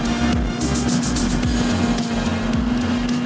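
A motorcycle accelerates hard in third gear, its engine note loud and close, with a steady rising drone and wind rush throughout.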